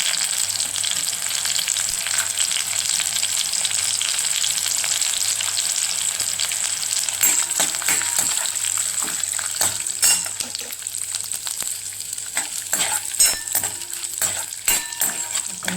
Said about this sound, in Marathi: चांगलं असं परतवून घ्यायचं.